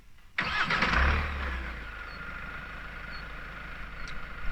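A 2020 Kia Sorento's 2.2 litre turbo diesel engine is remote-started from the keyring, cranking to a loud catch and brief rev, then settling into a steady close idle with no talk.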